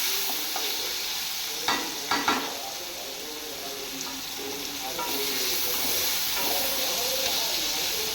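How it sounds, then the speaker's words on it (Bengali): Chopped tomatoes hit hot oil with dried red chilli and black cumin, giving a steady close sizzle with a few sharp stirring clatters early on, frying continuing evenly throughout without talk. "শুকনো লঙ্কা কালো জিরাটা একটু ভাজা হয়ে গেলে এবার আমি দেব টমেটো কুচি।"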